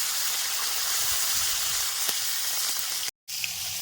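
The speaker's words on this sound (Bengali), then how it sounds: "মাছ ফেলে দিচ্ছি দেখেন কি পরিমাণে বেকা হয়ে গেছে" Live river fish slid into hot oil in a village-style kadai sizzle with a steady, loud, hissing fry that runs nearly throughout, cutting out briefly near the end.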